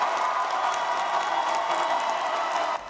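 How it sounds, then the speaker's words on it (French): Applause and cheering from a crowd greeting Gabon's transitional president, General Brice Clotaire Oligui Nguema, as he enters a hall to meet the Gabonese community in Cameroon: dense, steady clapping throughout that drops off abruptly near the end. "Applaudissements et salves d'ovation en l'honneur du président de la transition à son entrée dans la salle"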